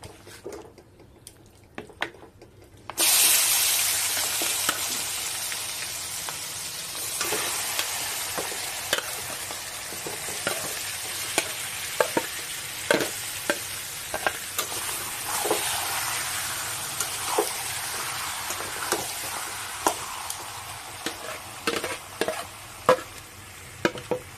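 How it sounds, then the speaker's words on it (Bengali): Marinated chicken, with bay leaves already in the pan, hits the hot oil after a quiet moment and erupts into loud sizzling, followed by ongoing frying with frequent clicking stirs and popping spatters. "এবার ম্যারিনেট করে রাখা চিকেনগুলো দিয়ে দেব।"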